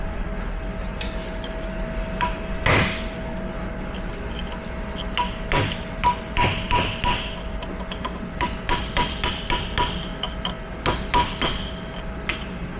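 Large chisel struck repeatedly with a hammer during a differential overhaul, giving a run of sharp metallic taps in irregular clusters over a steady background hum, no talking.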